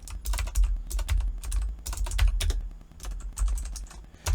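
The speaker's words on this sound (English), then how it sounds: "I'm typing in the RTX name afterwards" Rapid, uneven keystrokes on a computer keyboard, clicking in quick bursts with short pauses, close and crisp, no voices.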